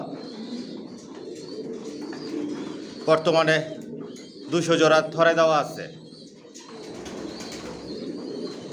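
Racing pigeons coo softly in a loft against a constant low murmur, while someone talks close over them in two bursts.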